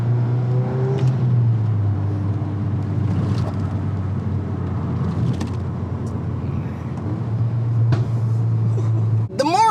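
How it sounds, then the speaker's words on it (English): Volkswagen Golf R MK8 (2022) fitted with an MST Performance open intake, its engine humming steadily with a rise and fall in revs, loud and continuous, with faint higher whooshing. "if you want more audible noise out of your Golf R, satisfying turbo spools, and things like that nature, get an open air intake"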